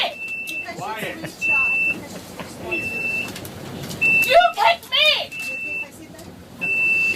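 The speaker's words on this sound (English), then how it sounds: "You can hear it didn't take long for someone to hit the panic button." A high electronic train panic alarm beeps repeatedly in short regular bursts while people talk and shout nearby over rumbling train noise.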